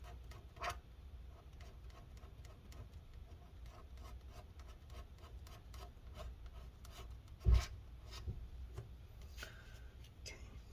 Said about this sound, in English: We're scraping off a lot of the metal.